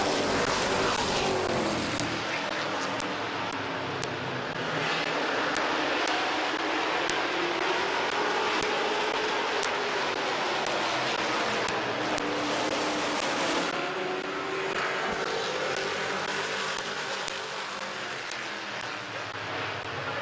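Race cars circle a speedway at Midvale, a continuous loud engine drone that rises and falls as cars pass, with sharp crackles throughout and a broad sweep of passing traffic.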